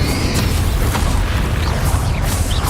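A loud, dense burst of spell-combat explosion from the Hogwarts Legacy game, a broadband boom held steady throughout rather than a single sharp blast, with no talking.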